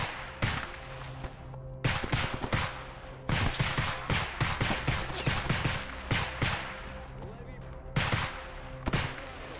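Gunfire in the video game STALKER Anomaly: loud, close, rapid bursts of shots, sometimes in quick strings and sometimes spaced out, continuing throughout with faint speech underneath.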